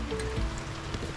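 Rain falls outdoors in a steady soft hiss of drops on surfaces, even and moderately faint, with no voices.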